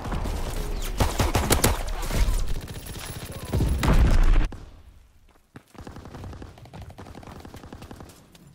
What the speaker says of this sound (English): Firing primary battery. Target position confirmed. Sending mortar rounds.